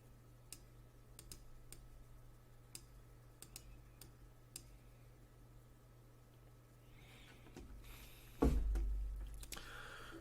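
Computer mouse clicks during setup of an Amazon Seller Central account, a series of sharp, soft, irregularly spaced clicks over a steady low hum, with a louder thump near the end.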